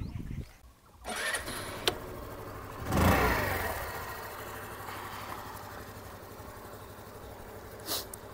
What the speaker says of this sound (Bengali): চলুন তাহলে প্রথমে আমি এক্সস্টের সাউন্ডটা আমি আপনাদেরকে শোনাচ্ছি